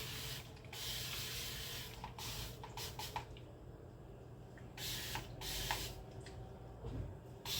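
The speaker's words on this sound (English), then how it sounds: "Get that little bit of a spritz with alcohol." An alcohol spray bottle gives several short, breathy hissing spritzes, spaced unevenly, while cleaning a new vanity tray, over a steady low background hum.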